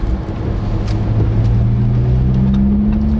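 A Lamborghini accelerates nearby, its deep engine rumble steady and loud and climbing slowly in pitch, with no voices over it.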